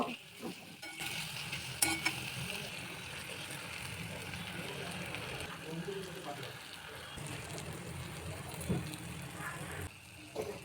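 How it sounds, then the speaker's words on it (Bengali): Ground spices, Kashmiri chilli powder, salt, turmeric and a little sugar frying in a pan for ghugni, stirred with a steady scraping over a continuous sizzle; a voice talks at moments underneath. "এবার একটু নাড়িয়ে নেব"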